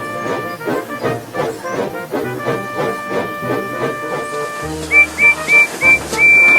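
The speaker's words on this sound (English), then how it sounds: "Once everything was ready, Percy puffed away" A small animated tank engine sets off with passengers, puffing in a rhythmic chuff under a music track, followed by several short loud whistle blasts near the end.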